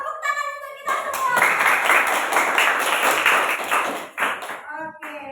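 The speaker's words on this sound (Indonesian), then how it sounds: "Tepuk tangan untuk kita semua" Students in a classroom break into loud, dense applause that lasts a few seconds, with a voice speaking just before it starts and again as it fades.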